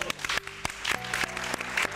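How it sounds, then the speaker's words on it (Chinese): Studio audience applause on a Taiwanese celebrity talk show, a steady burst of clapping from a crowd, close and fairly loud with sharp individual claps standing out over the whole stretch. "掌声鼓励一下。"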